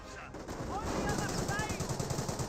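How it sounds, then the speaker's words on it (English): Rapid bursts of machine-gun fire from heavy assault grenadiers garrisoned in a building in the strategy game Company of Heroes, a dense rattling barrage that runs continuously at moderate volume with faint background battle noise. "The heavy assault grenadiers are still inside this garrison, firing shots against everything."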